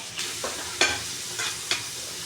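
Onions sauté with salt in a pan under a constant sizzling hiss, broken by several sharp scraping stirs spaced unevenly across the moment.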